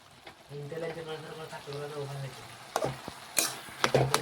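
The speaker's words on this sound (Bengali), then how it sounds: "বেশ কিছুক্ষণ নাড়াচাড়া করে নিয়ে কিন্তু কপিটা ভেজে নিতে হবে" Cabbage with potato and carrot fries in a pan in its own released water, a steady soft sizzle under repeated stirring, with sharper spoon-and-pan clatters toward the end and a voice faintly present.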